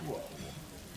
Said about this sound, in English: Ooh, Sizzling. it's sizzling.